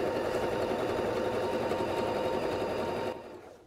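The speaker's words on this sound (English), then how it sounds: "Very solid in the way that it sews." Rapid, even whirring and clatter of a Baby Lock Joy sewing machine stitching up close, running steadily then stopping abruptly near the end.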